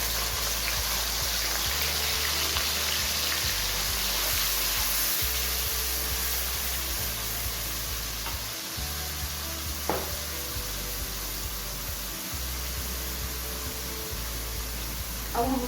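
Finely chopped handi masala sizzles in two spoons of hot oil in a kadhai, a dense, steady frying hiss that holds without pause, with a low rhythmic rumble beneath.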